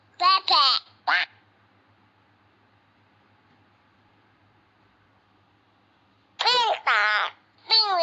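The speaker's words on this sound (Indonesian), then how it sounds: "Bebek." Cartoon duck quacks from a children's educational animal video game: a quick cluster of bright, nasal calls, then a quiet pause, then another burst of quacks, close and clear.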